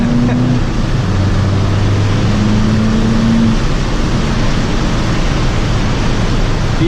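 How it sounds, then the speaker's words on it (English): Loud, steady wind roar fills the cabin of an Abarth 595 on the move, a broad rushing hiss over low engine hum, with faint tonal drones drifting in and out. "as you might hear, it does give a lot of wind noise"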